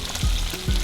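Peppers dropped into a pan of frying onions give a loud close sizzle with two heavy thumps as they land, crackling oil continuing briefly.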